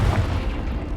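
A Confringo blast spell explodes in the Hogwarts Legacy video game, giving a dense, low booming burst that rumbles through the full second without any voices.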